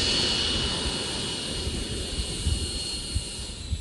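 A Freewing Venom 90mm EDF radio-controlled jet roars steadily with a broad, whooshing ducted-fan rush and a high whine, sustained and fairly loud throughout, with no voices.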